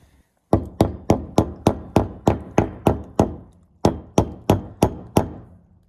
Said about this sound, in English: that enabled me to tap the rudder bearing into position